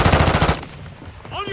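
Rapid automatic gunfire in a Call of Duty video game, a loud fast burst of shots for about half a second, then a quieter tail of game noise.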